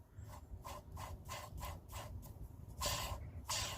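Release bearing from a Skoda Estelle 120 clutch, turned by hand on the bench, gives a slightly noisy, rhythmic series of short scraping, rasping rotations, close and fairly quiet, with no talk.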